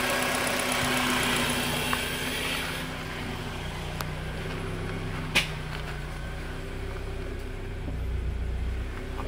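A Honda Accord engine runs at a steady idle after refusing to start. The hum is continuous and even, with a few faint clicks and ticks over it, and no one speaks.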